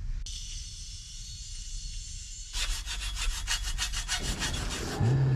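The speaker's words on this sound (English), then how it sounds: "So I could cut it here, but maybe it's best if I cut it just over this lip." A sliding gate's wheel track is sawn through by hand, with fast rhythmic rasping strokes that are close and steady over a constant background hiss.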